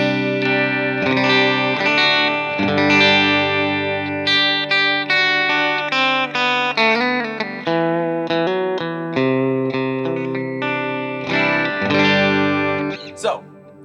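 Telecaster electric guitar played through a Line 6 Helix with distortion, chorus and echo effects, sustained chords and picked notes ringing steadily for the whole stretch, loud and close with no talking.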